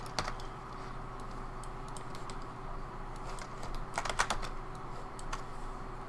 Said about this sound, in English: Now I just hit spacebar, keep going, spacebar,